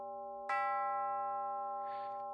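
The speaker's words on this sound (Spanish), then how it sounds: "dio la hora el reloj de ébano en el salón de terciopelo" An ebony clock in a velvet salon striking the hour, a single clear bell-like chime ringing out with a long sustained decay over a quiet background.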